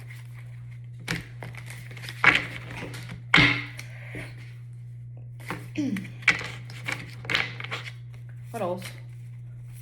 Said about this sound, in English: Let's shuffle these a little better.